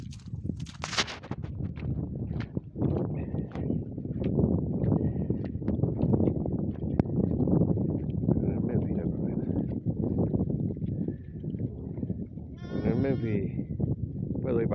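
A flock of sheep being herded with working dogs across waterlogged ground, bleats rising through steady outdoor noise and someone talking, with a clearer, closer bleat near the end.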